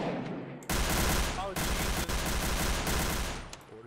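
Sustained automatic gunfire from a police raid in the video game Garry's Mod, dense and continuous with brief pauses, loud and close, with voices chattering underneath.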